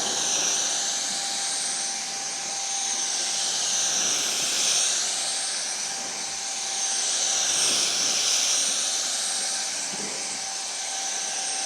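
Fanttik BF10 Pro handheld blower drying a car hood, a loud, continuous high-pitched whining jet of air that swells and eases slightly as it sweeps across the surface, with no voices.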